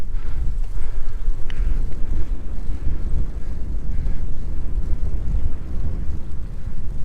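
Heavy wind buffets the microphone of a touring bicycle on a long road ride toward Xanten, a loud continuous low roar with gusty swells throughout and no clear speech.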